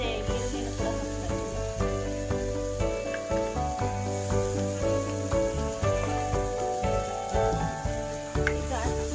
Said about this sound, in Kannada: 1 ಸ್ಪೂನ್ ಅಷ್ಟು ಬೆಣ್ಣೆ ಹಾಕ್ತಾ ಇದೀನಿ ಲೋ ಫ್ಲೇಮ್ ಅಲ್ಲಿ ಇಟ್ಕೊಳ್ಳಿ ಲಾವೆಲೆ ಚಕ್ಕೆ ಲವಂಗ ಹಾಕ್ತಾ ಇದೀನಿ ಮತ್ತೆ ಈರುಳ್ಳಿನ ಕೂಡ ಹಾಕ್ತಾ